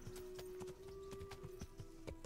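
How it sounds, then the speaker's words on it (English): Horse hooves in Kingdom Come: Deliverance, a steady clip-clop rhythm of hoofbeats at a brisk gait, quiet and fairly close, with a faint tonal hum underneath. "I like the horse riding experience in this game"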